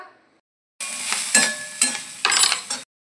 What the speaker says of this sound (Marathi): कढईमध्ये थोडासा कांदा बारीक चिरलेला, थोडंसं बारीक चिरलेलं आलं आणि थोडंसं तेल टाकून आपल्याला हे भाजून घ्यायचं आहे